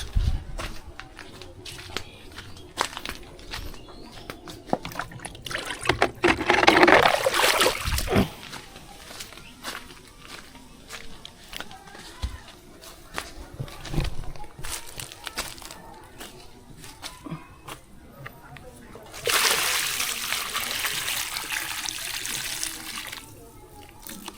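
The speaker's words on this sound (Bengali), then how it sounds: "জল দেওয়া কমপ্লিট" Plants are watered by hand from a bucket, with intermittent splashing and trickling, a louder pour mid-way and another near the end over faint outdoor background.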